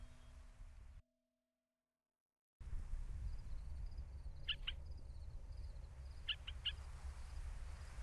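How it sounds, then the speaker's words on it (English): Birds chirping in a quiet setting, short bright twitters in two small clusters against a soft low background hum, following a brief silent gap near the start. "Birds making little chirpy chirpy noises."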